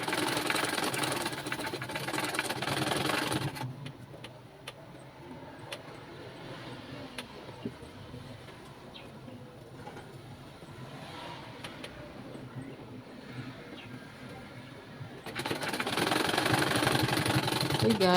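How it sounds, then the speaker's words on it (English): Sewing machine stitching a baby frock, a fast mechanical whirring hum starting and stopping, quieter steady running in the middle with louder bursts at the start and end. "After notching, I'm going to go ahead now and sew, making sure that they are both the same in length."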